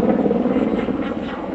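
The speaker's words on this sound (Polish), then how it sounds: "Jakieś helikoptery lecą" Helicopters passing overhead outdoors, a steady loud rotor and engine drone that stays constant with no other sound.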